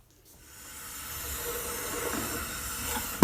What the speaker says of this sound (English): Here I'm steam bending the binding material for two guitars